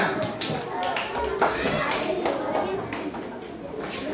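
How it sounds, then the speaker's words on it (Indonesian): A classroom of children claps for a classmate during a lesson, a brief burst of scattered hand claps under children's chatter and voices. "tepuk tangan buat Riana."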